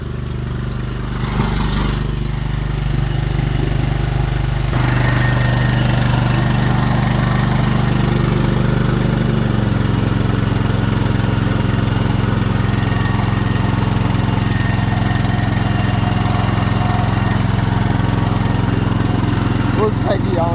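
A Cub lawn tractor engine runs loud and steady the whole time, a low droning rumble with a shift in pitch a few seconds in, as if the throttle changes, while a voice talks faintly underneath.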